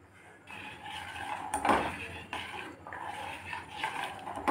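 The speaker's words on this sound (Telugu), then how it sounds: "సరిగా ఇలా కలుపుతూనే ఉండాలి" A spoon stirs soaked apricots in a pot, giving repeated scraping and clinking strokes against the metal at an irregular rhythm, close and fairly soft, with no talk.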